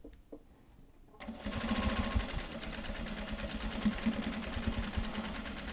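After a quiet start, a sewing machine starts up and stitches a Japanese fabric bag with a steady, fast, close whir that continues to the end.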